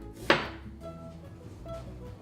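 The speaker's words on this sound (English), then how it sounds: "I have a quarter of a yellow onion, and we're just going to kind of cut this into slices" A knife cutting a quarter of a yellow onion into thin slices, with one sharp chop against the board near the start followed by quieter low cutting and handling sounds, close and without talk.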